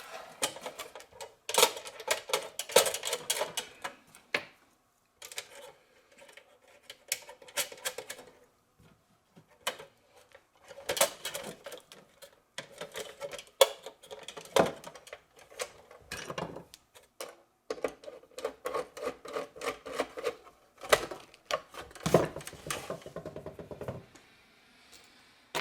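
A wrench tightens bolts on a rooftop TV antenna mount, making rapid ratcheting clicks in irregular bursts separated by short pauses, close and fairly quiet.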